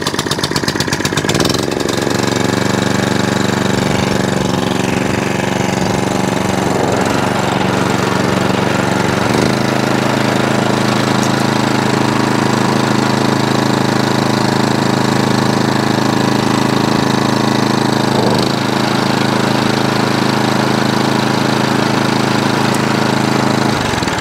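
A petrol engine on an Atco Balmoral cylinder lawn mower runs loudly and steadily up close, a constant droning rumble that shifts pitch slightly as it revs and settles.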